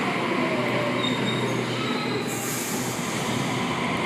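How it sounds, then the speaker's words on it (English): Sydney Trains Waratah electric train at a station platform, with steady rumbling and high squealing wheels throughout, close and continuous. "Waratah A67 arriving on platform 1"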